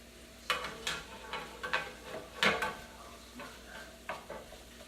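Jackfruit cooks in a pan as the last of the liquid simmers away, a quiet sizzle broken by a series of stirring scrapes and light utensil taps against the pan.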